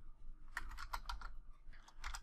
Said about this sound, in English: So we will type local DB